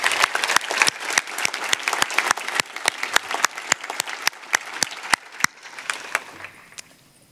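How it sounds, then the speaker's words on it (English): Luncheon audience at the Borlaug Dialogue International Symposium clapping in sharp distinct claps that thin out and fade toward the end. "A round of applause for these great young men and women."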